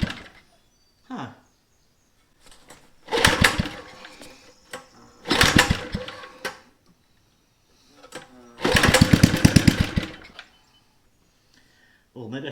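A mini bike's small engine, just fixed with a soldered brass carburetor float, sputters to life in three rough bursts of a few seconds each, cutting out between attempts, with brief quiet gaps.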